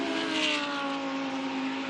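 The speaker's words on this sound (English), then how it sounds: "Beneath me in the pit lane are all sorts of sounds as engines fire back into life and cars growl their way down the pit lane again." GT race car engines in the pit lane at a race circuit give off a steady, sustained mechanical drone with a strong tonal hum, close and even throughout with no speech.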